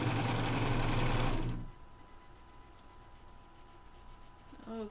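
Sewing machine stitching long basting stitches in fabric for a door or window chill stopper, a loud fast whirring run for over a second, then stopping and leaving quiet room noise.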